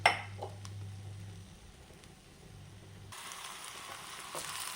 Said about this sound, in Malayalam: വെളിച്ചെണ്ണ ചൂടായി വന്നിട്ടുണ്ട് അതിലേക്ക് നമ്മൾ ചുവന്നുള്ളി വെളുത്തുള്ളി കറിവേപ്പില ചതച്ചെടുത്തത് ഇട്ട് കൊടുക്കാം